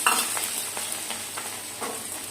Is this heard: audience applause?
no